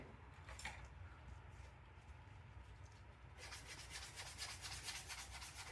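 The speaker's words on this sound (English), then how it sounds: "We may have to sand down some of the back here" Sandpaper rubs across the back of a wooden piece in soft, faint strokes, growing steadier and brighter partway through, with no voices.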